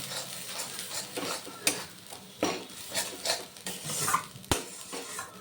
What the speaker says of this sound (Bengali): ভালো করে নেড়ে চেড়ে একেবারে ভাজা ভাজা হয়ে আসলে আমি নামিয়ে নেব